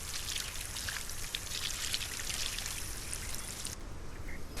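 A watering can steadily pours water onto planted crops in SolarPunk, a soft continuous trickle and splash that runs alone for several seconds before dropping off abruptly near the end.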